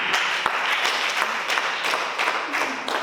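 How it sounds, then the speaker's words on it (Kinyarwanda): Steady applause from a crowd, dense clapping sustained throughout with a few sharper claps standing out. "havuyemo aya mashyi"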